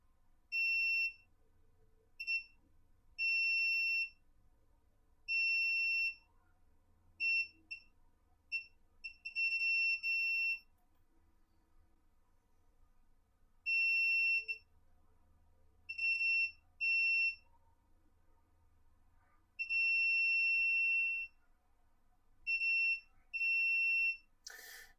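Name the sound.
electronic beeping during Joy-Con repair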